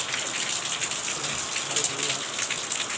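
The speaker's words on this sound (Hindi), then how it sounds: "अभी बाहर शायद बारिश हो रही दिल्ली में" Rain falls outside in Delhi, a steady, fairly loud hiss of drops hitting surfaces that continues evenly throughout, with no voices over it.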